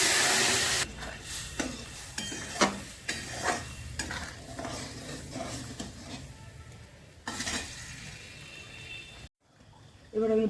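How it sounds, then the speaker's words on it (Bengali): Pressure-cooked dal being poured into a hot pan for a bitter gourd dal, with sizzling, splashing and a spoon stirring and scraping against the pan in a series of close, irregular strokes. "এবার আমি ডালটা ঢেলে দিচ্ছি, প্রেশার কুকারে সেদ্ধ করে নিয়েছি।"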